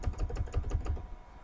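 Rapid typing on a computer keyboard while entering a measurement into Revit floor-plan software, a quick run of close, crisp key clicks with no talking.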